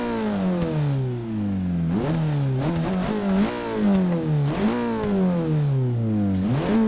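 A 2017 Ford Focus RS engine in Forza 6 revs up and down through repeated gear changes, a loud, continuous rising-and-falling drone of racing-game acceleration.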